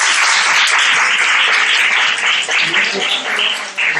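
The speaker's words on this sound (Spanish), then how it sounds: "Bueno, un aplauso, Fátima, muchas gracias." Audience applause at a youth congress on ethics cases, bright, sustained clapping from a room of people, loud and close, thinning slightly toward the end, with faint murmurs underneath.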